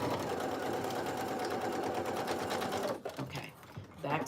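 A sewing machine back stitching a jacket seam: a steady fast mechanical whir for about three seconds, then stopping and stuttering briefly, quiet and close.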